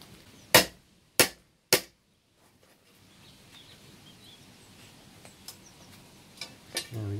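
Three sharp, loud metallic strikes on a metal dowel in quick succession in a garage, then a quiet stretch with faint rustling and a couple of softer knocks near the end.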